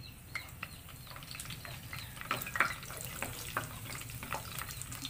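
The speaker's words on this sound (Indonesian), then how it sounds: "Okey, kita mula menumis" Lemongrass, star anise, cinnamon and curry leaves sizzle in oil in a pan for a fish-head curry, a steady close fry broken by sharp clicks and scrapes of a utensil stirring, with no voices.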